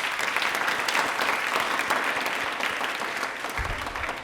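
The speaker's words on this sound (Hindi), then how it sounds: "तालियां एक बार जोरदार हो जाएं।" Enthusiastic audience applause at an Indian Railways quiz programme, dense steady clapping that continues loud throughout and thins slightly toward the end.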